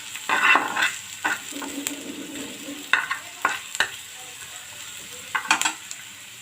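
Onion and garlic fry in a pan with a soft sizzle, broken by repeated scraping stirs and clinks of a utensil against the pan at irregular intervals.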